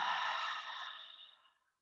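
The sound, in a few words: deep breath in and audible exhale during yoga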